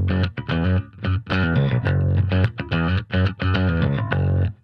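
Bass guitar played through an inexpensive bass amp's fat old Bassman preset with chorus added: a loud, thick, slightly distorted riff of punchy repeated notes with short gaps, alone with no talking.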